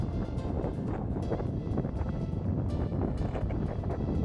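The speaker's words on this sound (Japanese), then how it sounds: "ものすごい風です。" Strong wind while riding a road bike, heavy continuous gusting roar buffeting the microphone, loud and close, with no speech.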